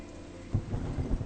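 Deep rumbles of thunder roll beneath the steady hiss of heavy rain, a few low booms rising in quick succession over the brief stretch.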